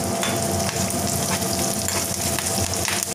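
Loud, continuous sizzling of red chillies and curry leaves frying in hot oil for a tempering, with crackling spits over a steady hiss and no talk.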